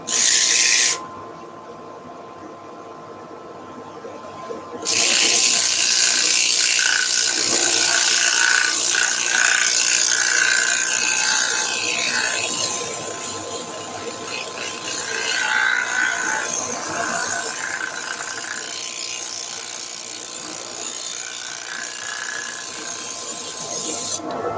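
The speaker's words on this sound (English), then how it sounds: "Lathe speed staying the same speed. Starting off with 100 grit." A wooden spatula spinning on a lathe is sanded with 100 grit paper while a dust extractor runs close by, producing a loud continuous whirring hiss throughout with slight swells in intensity.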